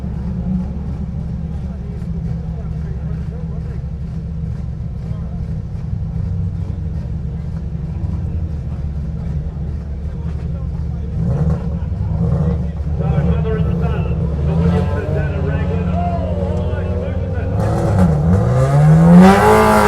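A Subaru Impreza STI rally car on a super special stage of the 2019 Otago Rally rumbles low and steady, then revs harder and louder toward the end, under ongoing commentary.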